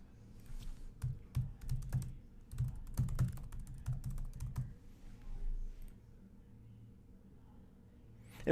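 Rapid clicking keystrokes on a computer keyboard as a website address is typed, a steady patter of close taps that thins out and stops partway through, ending with a brief louder knock.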